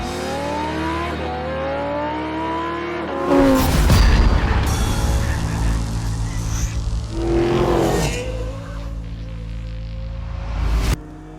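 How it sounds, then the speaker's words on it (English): Drag race between a 2023 BMW M2, a Porsche Cayman GTS 4.0 and a tuned Golf R: engines rev and rise in pitch, then loud accelerating roars sweep past close by, fading out near the end. "this is a drag race"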